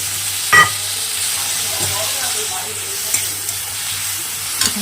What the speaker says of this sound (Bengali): এই যে দেখুন কষাটা আপনাদেরকে দেখাচ্ছি